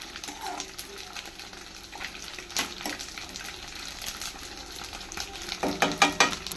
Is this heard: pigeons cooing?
no